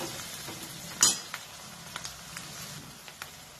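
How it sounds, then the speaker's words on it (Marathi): Onion frying in a pan for a chivda made from leftover bhakri: a steady soft sizzle with a sharp utensil clink near the start and a few lighter taps after, with no talking. "आता कांदा चांगला भाजला"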